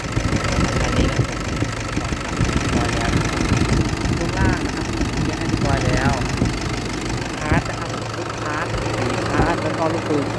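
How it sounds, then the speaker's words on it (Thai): A 2012 Toyota Hilux Vigo Champ 2.5E four-door pickup idles steadily with a low even engine rumble up close, while someone talks over it and a few brief sounds come through. "เสียงเครื่องนิ่งๆนะครับผมเสียงเครื่องนิ่งๆเลย"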